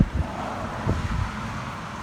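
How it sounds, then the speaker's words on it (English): Breezy wind blows outdoors at a backyard grill, giving a low rumbling buffet against the microphone with a few soft gusty thumps and no talking. "It's breezy."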